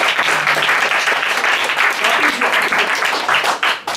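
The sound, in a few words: audience applauding at improv theatre show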